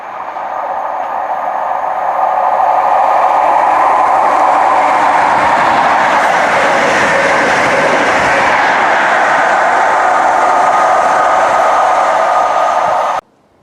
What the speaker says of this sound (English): Let's film some more trains.